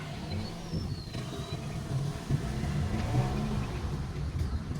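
A Toyota Vios with a long-cranking, low-power fault turning over and catching, its mid-pitched engine then running with a low steady rumble, fairly quiet and close.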